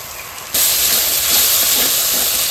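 A paste of cashew, poppy seed and melon seed hits hot spices in a pan, setting off a sudden loud, steady sizzle that holds without voices.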